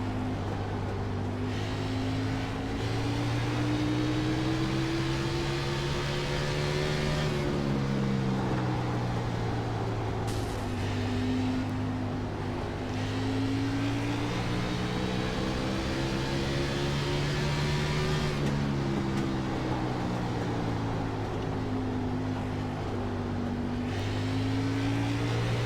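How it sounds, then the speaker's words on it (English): Xfinity Series stock cars at Lucas Oil Raceway in Indianapolis roar past in a continuous loud pack, engine notes rising and falling in long sweeping passes as the motors circle the track. "listen to these Xfinity cars here at Elite Series"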